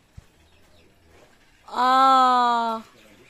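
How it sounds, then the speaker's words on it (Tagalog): A bird calls once near a balimbing (starfruit) tree, a loud, clear, harmonically rich note lasting about a second, following a sharp tap and quiet background. "Ayan ibon, oh."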